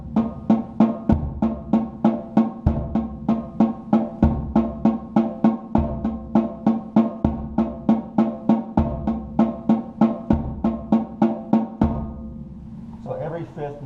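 A drum kit plays a steady pulse of crisp snare strokes, with a bass drum landing on every fifth note to form a repeating polyrhythm, close and alone for about twelve seconds before it stops.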